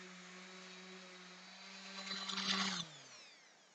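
A power sander with sanding discs running on a 2x6 wooden board, a steady motor whine that swells into a louder gritty scrubbing burst near the end before spinning down, close and alone.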